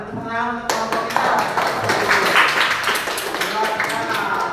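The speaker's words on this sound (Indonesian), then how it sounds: "terima kasih tepuk tangan untuk kelompok tiga" A classroom group claps after a student presentation, a burst of hand claps starting abruptly and continuing steadily, with a voice heard briefly before it begins.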